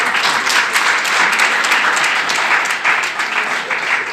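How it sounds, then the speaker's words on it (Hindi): An audience claps loudly and steadily to welcome a guest at a Mahavir International family gathering in Nagda, a dense, continuous applause heard close. "फिर एक बार जोरदार ताली बजाकर राजेश गेड़ला जी का स्वागत करें"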